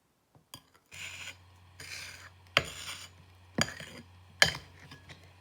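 Edible chocolate dirt being stirred in a bowl, with scraping, rubbing strokes that come in separated bursts, a few sharper clinks of the utensil against the bowl, fairly close and moderate in level.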